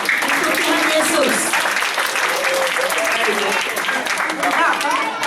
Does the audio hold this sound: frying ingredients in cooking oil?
no